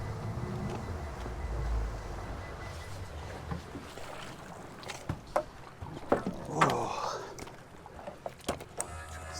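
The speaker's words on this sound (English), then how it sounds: "It's another boat pulling traps here next to us" Another stone crab boat working its traps nearby gives off a faint low engine hum, broken by scattered clanks and knocks of gear.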